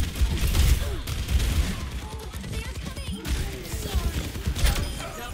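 Ashe's rifle firing in Overwatch 2 during a match, with sharp repeated gunshot bursts and mechanical clacks amid dense game effects and crashes, with a player talking over the action.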